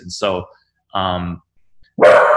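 A dog barks nearby in a few short, loud bursts, with someone speaking briefly among the barks.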